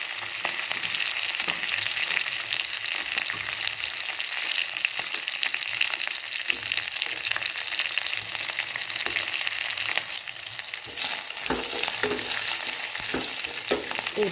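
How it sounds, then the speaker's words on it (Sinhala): Curry leaves and green chillies fry in hot oil for a Sri Lankan dried sprat dish, a dense continuous close sizzle with crackling pops and occasional stirring scrapes, with no talking. "මම දැන් මේ වෙලාවේදී කරු පීට ටික එකතු කරනවා. ඒ වගේම අමුමිරිස් කරා දෙක තුනක් එකතු කරගන්න."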